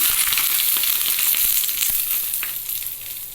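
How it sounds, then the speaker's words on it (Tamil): Mustard seeds, urad dal and curry leaves temper in hot oil for ginger chutney, making a loud, continuous crackling hiss with scattered pops that eases slightly toward the end. "கடுகு, உளுந்து, கருவேப்பிலை தாளித்து இதில் சேர்த்துக்கோங்க."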